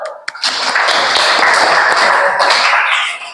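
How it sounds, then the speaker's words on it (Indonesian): A school class in a guidance lesson breaks into hand clapping after a single sharp tap, a lively burst of many hands close by that swells and then tapers off. "Tepuk tangan dulu"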